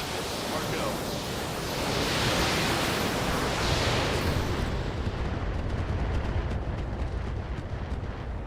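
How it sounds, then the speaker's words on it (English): Heavy weapons fire from battling mechs in BattleTech, a steady roaring wash of explosive, rumbling blasts that lasts throughout at moderate loudness, with a voice talking faintly underneath. "We're still shooting. All weapons are go."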